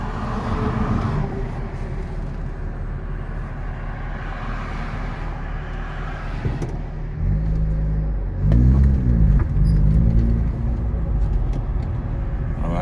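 A 1974 Honda Civic drives along with a steady, close engine drone and road rumble from inside the car, the engine note dropping and swelling with a brief rev partway through.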